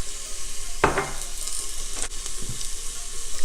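Chopped onion, finely diced, frying in a soup pot, a steady soft sizzle running throughout, with a brief stir or clank of a utensil near the start and a light knock later.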